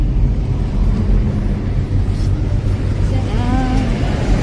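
A friend's car carries a family group toward Vajreshwari, giving a steady, loud low engine and road rumble from inside the cabin with faint voices underneath.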